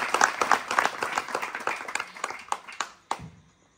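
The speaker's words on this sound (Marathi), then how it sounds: "त्यांच्याबद्दल एक वेळेस टाळ्या वाजा" An audience at a village bhajan program breaks into applause, a dense burst of clapping that thins out into scattered claps and a final few sharp ones before fading.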